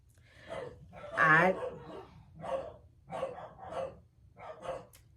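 Dogs bark in a rapid series of sharp, mid-distance yaps, with a louder burst early on and several more following in quick succession.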